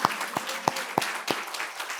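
At a Christmas Eve Sunday worship service, the congregation applauds in a soft sustained patter, punctuated by five evenly spaced louder claps, like a beat, over the first second and a half.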